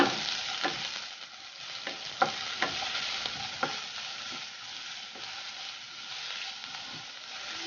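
Chopped onion and green chillies sauté in a pan, a soft steady sizzle punctuated by several sharp scrapes of a stirring spoon, close and alone.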